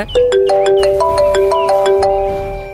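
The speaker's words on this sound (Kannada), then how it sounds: "ಫೋನ್ ಬರ್ತೈತಿರು." A mobile phone rings with a bright melodic ringtone of quick repeating electronic notes, loud and close, with no voices over it.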